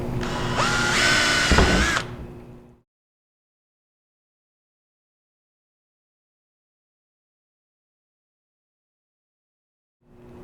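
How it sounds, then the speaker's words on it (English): A power drill whines loudly for about two seconds while drilling a hole in a Segway UT10 Crew utility vehicle bumper, then stops, leaving near silence. "And then we'll finish drilling."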